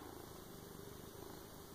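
A contented cat purring close by, a soft, very quiet continuous low rumble with a steady, even texture throughout.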